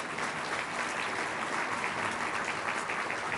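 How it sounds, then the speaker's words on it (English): Audience applause for city council members at a civic event, a continuous, even wash of many hands clapping together, loud and sustained without any break across the whole stretch. "Councilman Fote, Councilman Mills, please give all of them a big round of applause, please."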